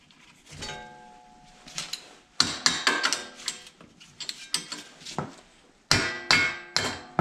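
Light hammer taps knock a CV axle loose from the front wheel hub of a 2011-2019 Ford Fiesta during wheel bearing and brake work, with irregular clusters of sharp metallic knocks, close and moderately loud.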